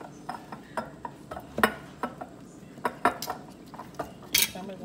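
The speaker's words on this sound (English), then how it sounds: "So I'm gonna drop our garlic in there, add those 2 pieces of serrano pepper that I mentioned, and throw the cucumbers inside." Garlic, serrano pepper pieces and cucumbers drop one after another into a glass pickle jar, a string of close, sharp clinks and knocks spread irregularly over a few seconds in a quiet kitchen.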